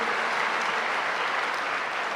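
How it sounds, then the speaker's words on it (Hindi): An audience at a welcome session claps steadily, a dense and even wash of applause that stays loud throughout with no pauses and no voices. "आप सब ताली बजा के उनका स्वागत कीजिए।"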